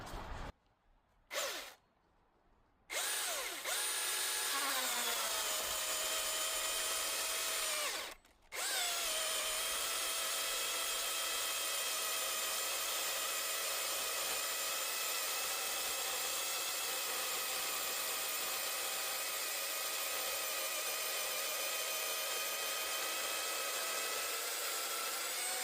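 A Milwaukee 2827 battery chainsaw fitted with a 28-inch Oregon EXJ 3/8 bar and chain whines loudly and steadily, starting and stopping a few times before a long continuous high-pitched cut through firewood.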